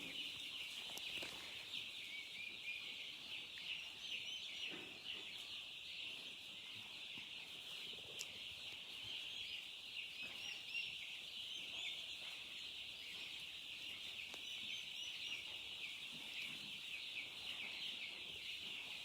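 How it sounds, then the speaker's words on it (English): Farm turkeys pecking at a pile of garden weeds make faint, steady chirping and clucking calls over a constant high outdoor drone. No one speaks. "So those are the turkeys."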